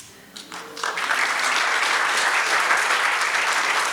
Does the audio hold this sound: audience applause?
yes